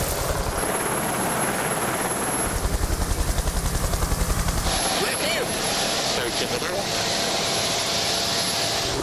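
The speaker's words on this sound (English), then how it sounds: "as soon as you see that yellow helicopter coming" A yellow rescue helicopter approaches over the sea, its rotor thudding in a loud, steady chop with engine whine that stays prominent throughout, while people talk nearby.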